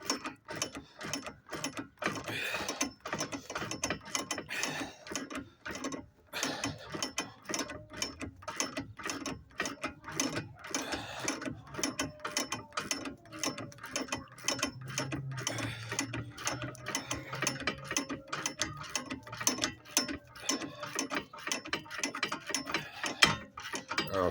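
A ratchet wrench tightens the rear brake bolts on a 2016 Kia Optima, its fast pawl clicking in long continuous bursts with brief pauses, close and fairly loud, with no talking.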